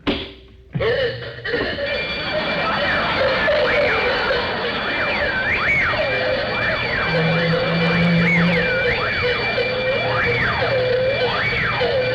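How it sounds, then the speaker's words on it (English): An electronic alarm wails continuously after a brief thump at the start, its pitch sweeping up and down in repeating cycles, loud and close, with no talk over it. "I need a louder burglar alarm."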